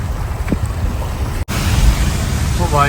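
A swollen mountain river rushes after a cloudburst along the Haldwani to Lohaghat route, a loud continuous roar of churning water mixed with gusty wind buffeting the microphone, with a brief dropout midway and faint voices in the background.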